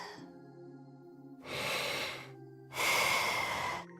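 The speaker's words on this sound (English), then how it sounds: "The sound of Karja's steady breathing fills the air." Slow, steady breathing of Karja, a sleeping character in the game Ys X, with two long, loud breaths rising and fading over a quiet background hum, heard alone.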